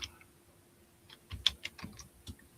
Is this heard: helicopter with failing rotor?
no